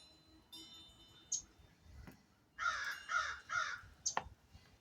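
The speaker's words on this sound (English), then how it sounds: "That's my beautiful crows." Several crows caw in short harsh bursts, fairly close, with a few scattered clicks and quiet outdoor background between calls.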